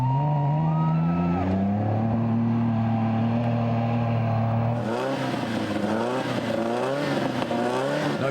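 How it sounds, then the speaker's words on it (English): Junior rally cars in the 2011 Australian Rally Championship driving past a stalled 1600, engines droning steadily and then rising into a louder, revving pass with shifting pitch, close and continuous throughout. "Meantime, Rowan Woolard struggled to restart the 1600 as his competition drove by"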